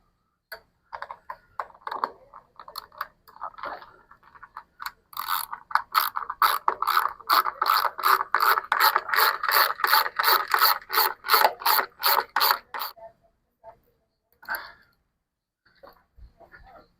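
A ratchet with a half-inch socket tightens bolts on a Yardistry gazebo leg, starting with scattered clicks, then a fast, steady run of close metallic ratcheting before it stops, with a few faint knocks afterward.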